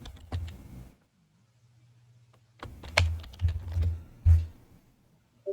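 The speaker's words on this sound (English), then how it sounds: "You're smashing your hands on the keyboard." Hands smash at a computer keyboard in quick clattering bursts of keystrokes, a short burst, a pause, then a longer heavy flurry, close and loud with no talk.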